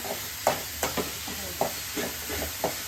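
Onions sautéing in a pan for Tamil-style crab masala, with a few distinct stirring scrapes spaced across the clip over a faint, steady sizzle.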